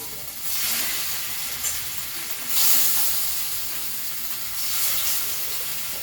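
Fish rubbed with salt and chili fries in a pan, giving a steady, soft sizzling hiss that swells and eases slightly, heard alone without talk.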